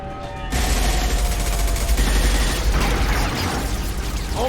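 Sustained automatic gunfire from a firefight in the video game Mass Effect 2, a loud dense rattle of bursts with booming impacts that runs continuously for several seconds, with no talking over it.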